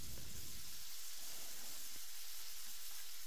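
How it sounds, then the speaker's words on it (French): Onions sizzle loudly in a hot pan, making a dense, steady frying hiss from start to finish, close up with no one speaking. "Ensuite, on rajoute les oignons."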